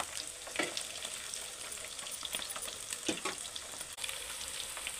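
Mutton pieces frying in a pan for mutton pachadi, browning like pakoda, with a steady close sizzle and a few louder crackles and stirring scrapes throughout.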